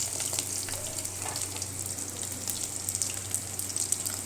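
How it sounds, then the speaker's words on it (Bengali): Snakehead fish (shol) head frying hard in hot oil, a steady crackling sizzle with scattered pops throughout, close and moderately loud with no talk. "মাথাটাকে ভালো করে কড়া করে ভেজে নেব।"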